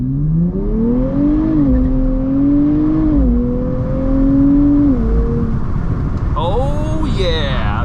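A car pulls away from a stop in first gear, its engine note climbing steadily in pitch as it revs up, loud and close, before easing off near the end.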